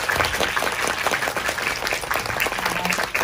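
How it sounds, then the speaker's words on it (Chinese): Audience applause fills the hall at a post-screening event for the film Sunny (陽光普照) at a Xinyi Vieshow cinema, steady dense clapping sustained throughout at close range without pause. "我们用掌声来欢迎他们"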